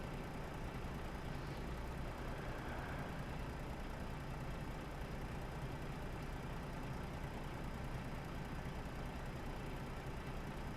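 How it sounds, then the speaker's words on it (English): A truck engine in the video game Euro Truck Simulator 2 drones steadily and evenly, with a constant low rumble that runs unbroken from start to finish and no voices over it. "You all have said that you can hear me okay with the sound of the engine."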